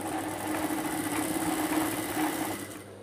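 A sewing machine stitches a shirt pocket with a steady, fast mechanical whir and rhythmic needle chatter close by that runs continuously and then stops near the end.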